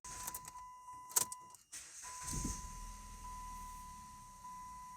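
A 2009 Chrysler Sebring with a cold crank-no-start fault: keys jingle and click near the ignition, then the engine turns over and catches, settling into a steady low running hum for the remaining seconds.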